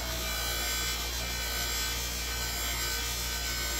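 A buffing wheel polishes a tobacco pipe with a continuous motor hum and a close, even rubbing hiss that stays steady throughout.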